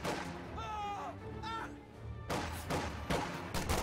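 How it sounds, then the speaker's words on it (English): Rifle volley fire and scattered explosions in a WWII real-time strategy game, heard as several cracks and thumps in a busy battle mix while a caster talks over them. "Volley fire from those rear echelon troops might suppress this squad"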